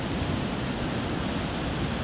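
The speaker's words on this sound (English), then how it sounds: "Big waves coming in." Big ocean waves rolling in near a lighthouse at A Coruña on a sunny day, a loud, continuous broadband roar of surf with constant rushing wash and no distinct breaks or voices.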